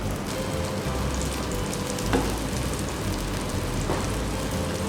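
Corn fritter dough frying in oil in a skillet over moderate heat, a dense, steady crackling sizzle like light rain that stays close and even throughout, with a couple of slightly louder pops and no voices.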